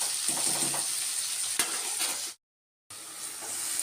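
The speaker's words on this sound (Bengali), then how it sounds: "আলু কুমড়ো বেগুন একটা গাজর দিয়ে একটু ভালো করে ভেজে নিচ্ছি লাল করে" Potato, pumpkin, eggplant and carrot fry in a pan with a steady, moderately loud hiss and crackle, cut by a brief dead silence before the sizzling resumes.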